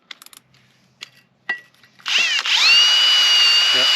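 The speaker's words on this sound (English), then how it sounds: "So we're going to wire brush that out" A few faint taps and clicks, then a power drill spins up and runs steadily at high speed, close and loud, driving a wire brush to clean metal on a J-10 motorcycle.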